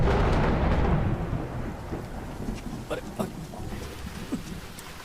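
Thunder rumbles loudly at first and fades into the patter of rain, with faint voices now and then.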